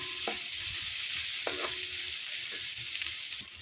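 Onion frying in a pan with ginger and garlic, a close, continuous sizzle punctuated by a few clinks and scrapes of stirring, with no talk.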